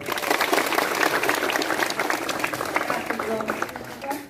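A school gathering at a high school in Kupang breaks into applause, energetic clapping from a crowd of students continuing for a few seconds amid voices, fading slightly at the close.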